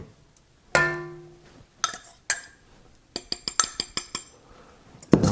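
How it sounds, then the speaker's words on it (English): A fork mixes flour into a bowl for braided bread dough, producing a loud clink and then a quick irregular run of sharp metallic taps and scrapes against the bowl, with quiet gaps in between. "I'll mix that in with a fork."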